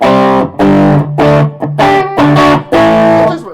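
An electric guitar plays loud, chunky chords in short bursts with brief gaps, through a TC Electronic Spark boost pedal, a thick, boosted, slightly gritty tone sustaining under each strum.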